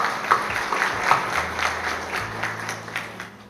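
A crowd claps for a farewell welcome of a priest, Father Michael Ignatius, in a steady, moderately loud ovation that carries on throughout with a low hum underneath.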